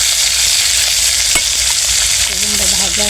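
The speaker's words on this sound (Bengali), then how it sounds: "বেগুনটা হলো ভাইজা নিতেছি" Eggplant frying in a pan gives a loud, dense, continuous sizzle heard close up, with a brief stirring knock near the middle and a faint tonal sound toward the end.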